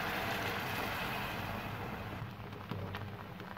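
Liquid pours in a steady broadband wash over roasted chicken thighs in a pan after two hours in the oven, a continuous close splash that eases slightly toward the end.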